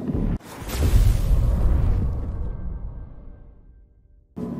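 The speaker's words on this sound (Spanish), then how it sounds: "Estas explosiones que no sabemos de dónde vienen." A deep rumbling explosion booms in the dark side-scrolling game Inside, swelling loudly then fading slowly into silence before another blast cuts in at the end.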